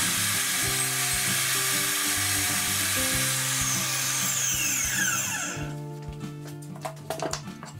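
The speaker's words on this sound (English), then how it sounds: "I have a table saw, so why not use the table saw?" A table saw cuts through wood for a DIY phone stand with charger, its loud steady high whine running for about five seconds before the blade winds down, followed by a few quieter knocks.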